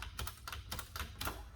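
A 1930s Olivetti MP1 portable typewriter is worked by hand, giving four or five crisp mechanical clacks at an uneven pace, close and clear, with no talking.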